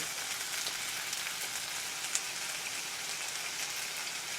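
Japchae with chopped chili stir-fries in olive oil, giving a dense, even hiss of crackling sizzle throughout, close and steady, with one brief sharper tick partway through.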